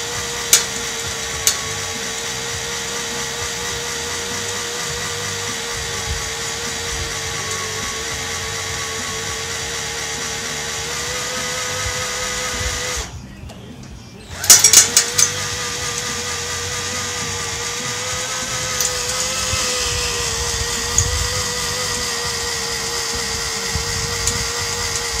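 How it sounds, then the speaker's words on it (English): A power drill turns slowly into a rusted, heat-exposed metal bolt with a continuous grinding whine and hum, pausing for about a second near the middle before resuming with a few clicks and knocks. "I drill it slowly so that the head of the drill can get a good bite into the metal."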